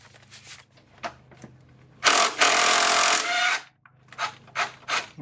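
A power tool on a 2008 Acura MDX engine bracket bursts into a loud, harsh buzzing run for about a second and a half, surrounded by shorter scraping and clattering tool noises.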